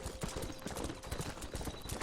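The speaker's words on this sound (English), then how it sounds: "Horse, what are you doing? Horse!" Horse hooves clip-clop in a steady, brisk rhythm on the Red Dead Redemption video game, close and continuous without speech.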